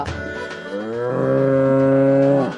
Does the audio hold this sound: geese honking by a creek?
no